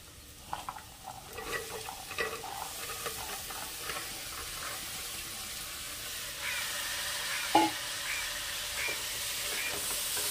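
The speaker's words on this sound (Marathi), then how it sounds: "भाज्या घालून घेतल्यानंतर सुद्धा आपण हे एकदा परतून घ्यायचं आहे असं" Vegetables stir-fried with masala in a pan, a low continuous sizzle with scattered soft scraping strokes, and the hiss grows a little louder toward the end alongside one brief clatter, no voices.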